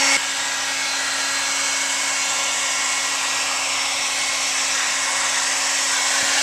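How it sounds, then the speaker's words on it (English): Heat gun blowing hot air over a shrinking, wrinkling surface, a loud continuous whooshing roar with a steady tonal whine that starts abruptly and runs unbroken throughout. "So I'm going to use the heat gun and push that down"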